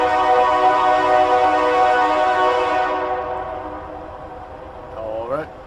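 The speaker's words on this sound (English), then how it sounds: "Now you guys know about the trains at the Dinsmores." A passing train near a trailside rest stop along the Pacific Crest Trail, its horn sounding as a loud sustained blast that fades over a few seconds, then a brief rising whistle-like tone near the end.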